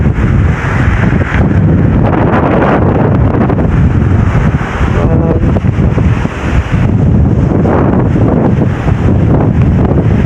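Loud, constant roaring typhoon wind buffets the microphone beside a swollen river, with rushing water churning underneath; a continuous heavy storm din with no pauses.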